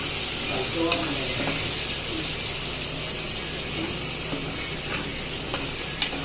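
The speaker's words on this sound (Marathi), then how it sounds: "थोडीशी हळद, छान परतून घ्यायची।" Turmeric stirring in a hot pan during mutton cooking, giving a steady low sizzle with a few light spoon scrapes and clicks throughout.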